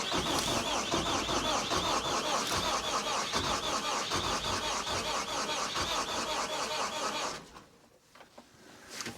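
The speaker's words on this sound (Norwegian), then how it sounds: "Men da får vi fyre opp traktoren da" A Volvo BM 2250 tractor engine starting and running outdoors, a loud steady mechanical drone with rhythmic chugging that cuts off abruptly near the end, leaving quiet ambience; no talking.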